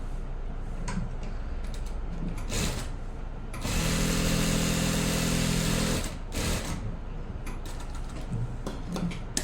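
A sewing machine stitches a pant pocket in short bursts of rapid mechanical clatter, with a longer sustained run of stitching in the middle and quieter handling sounds between bursts.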